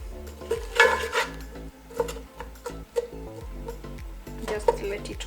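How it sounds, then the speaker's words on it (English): A spoon stirring a pot of matoke after stock has been added: clinks and scrapes against the pot come in uneven bursts over a low background hum, and faint voices are audible. "Then I'll take a spoon and stir this up."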